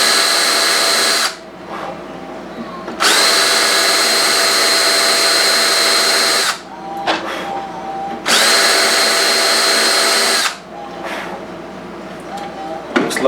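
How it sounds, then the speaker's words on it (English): A drill bit bores fret marker holes into a guitar neck in two long, loud bursts of steady high whine, each running about three to four seconds, separated by short pauses with faint handling noise. "I really do believe this bit actually cuts a flatter hole"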